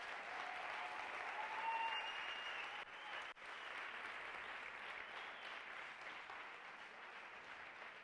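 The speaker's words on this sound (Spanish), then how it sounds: "Así que desde aquí, Santi, te mandamos esa fuerza y un fuerte aplauso." Sustained applause from a congress audience, a dense, even roar of clapping in a large hall that carries on for several seconds with a brief dip midway, heard from some distance.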